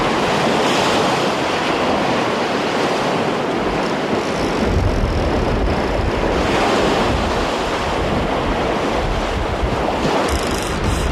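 A strong east wind rushes across a French beach during surfcasting, with surf breaking beneath it in a dense, continuous roar that buffets the microphone for the whole stretch.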